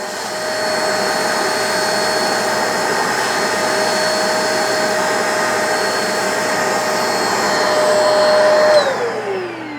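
A Hoover or Bissell Little Green Machine portable spot carpet cleaner runs with a steady, loud motorized whine and high tonal hum, then winds down sharply near the end as it switches off.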